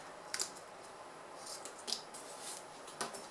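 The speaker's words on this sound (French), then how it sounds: "Maintenant que mes coutures sont faites, je vais découper ce qui dépasse sur le côté." Scissors trim excess fabric beside freshly sewn seams on a fabric vanity pouch, giving a few quiet, crisp snips spaced over a few seconds with nothing else around them.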